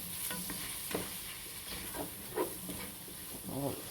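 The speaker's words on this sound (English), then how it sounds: "we're going to sprinkle some flour in here. Stir it around." A spoon stirs flour into a pot of potato soup base with cooking garlic, giving soft scraping strokes over a steady low sizzle and hiss, fairly close and quiet.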